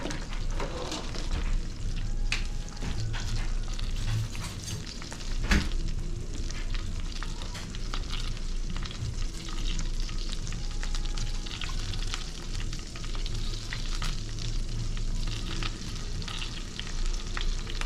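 Shrimp and garlic fry in a pan with a steady, dense sizzle, occasional stirring clinks and spoon taps, close and continuous with no talk.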